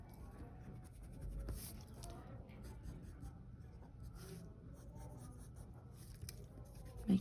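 A pencil moves across paper sketching a woman's hair for a fashion drawing, with faint, soft scratchy strokes in short repeated bursts, quiet and close.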